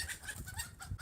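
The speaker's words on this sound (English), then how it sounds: "She came through and scared the chickens." Backyard chickens cluck in quick, agitated bursts after being startled, close by and fairly faint, with outdoor background noise behind them.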